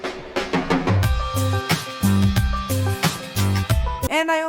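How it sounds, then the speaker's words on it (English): Discord call ringtone, a bright synthetic melodic jingle of short repeated tones over a thumping low pulse, moderately loud and heard alone. "If you don't know what the ringtone sounds like, it sounds like this."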